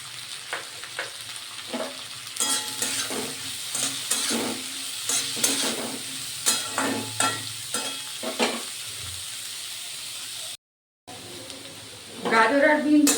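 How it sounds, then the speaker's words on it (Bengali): Carrots and beans frying in oil in a pan with a little salt, a steady close sizzle broken by repeated stirring scrapes, with a voice talking over it. "গাজর আর বিনসটা আমার ভাজা হয়ে গেছে।"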